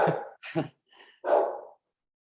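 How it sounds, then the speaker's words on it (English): Several dogs bark in quick, loud bursts close by during a home podcast recording, three separate barks with short gaps, a fainter yip between them, and no talk over them. "Sorry about my dogs."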